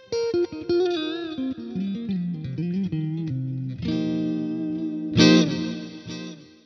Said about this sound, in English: We've got delay, we've got a little bit of a chorused reverb happening.